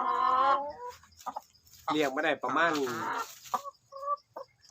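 Laying hens crossed with a native rooster cluck in a farmyard, a few loud close calls between stretches of Thai speech that runs over and around them.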